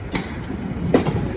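A Class 395 train rolls past the Deal level crossing, a close, fairly loud rumble of wheels on rail with a couple of clattering knocks over a short moment.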